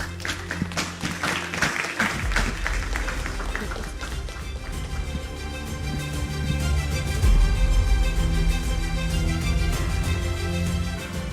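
At an awards ceremony in Ghana, a burst of crowd applause opens, then quickly gives way to loud, sustained music with steady tones that continues over faint clapping.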